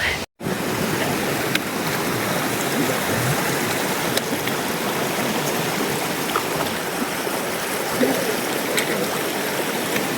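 Snowmelt-fed mountain stream flowing across a trail crossing on the Pacific Crest Trail, a steady, loud, close rush of water that continues without pause after a brief dropout at the start.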